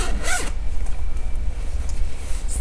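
Zipper on a quilted cotton fabric bag with resin crystal pulls, a quick close zip followed by softer rustling and handling noise, loud and alone without any talk.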